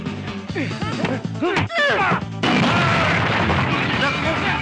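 In a Filipino film scene, a window's glass smashes with a sudden loud crash that continues as a dense, rattling burst, after and among agitated shouting voices.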